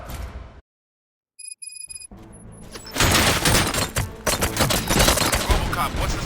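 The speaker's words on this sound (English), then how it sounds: "Gunshots? What's going on?" Dense gunfire from RoboCop: Rogue City, a burst of rapid shots filling the second half after a quiet stretch with faint electronic beeps, loud and continuous without speech.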